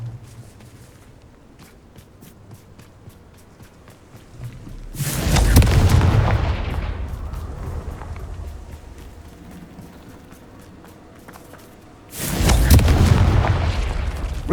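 In the Hogwarts Legacy game, two loud booming blasts from the Confringo spell arrive several seconds apart, each one dying off in a rumbling tail. Faint footsteps carry on quietly between the blasts.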